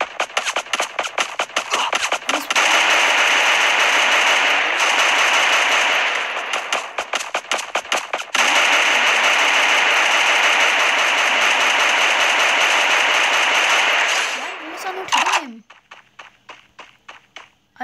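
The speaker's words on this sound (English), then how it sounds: "I can hear his firing. He's firing on another player." Rapid automatic gunfire from another player in a shooter video game, long sustained bursts with brief gaps, loud and dense, then trailing off into quieter footsteps.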